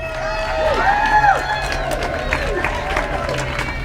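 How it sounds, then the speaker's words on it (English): Children applauding and cheering at a school assembly, a crowd of claps and shouts in a hall with a rising whistle-like tone at the start, sustained and fairly loud throughout. "can we give them a big applause?"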